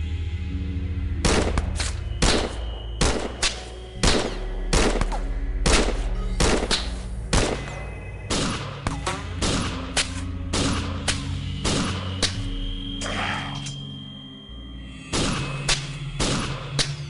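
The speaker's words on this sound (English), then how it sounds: "Putting in a mag dump." Machine gun fire from a mag dump in the XCOM video game, with several loud bursts of rapid shots spread over the clip and brief gaps between them.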